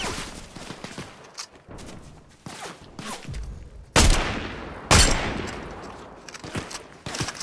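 Gunfire in Fortnite rings out as a few sharp, loud shots, the strongest two a second apart, each with a long decaying tail, mixed with game effects and no speech.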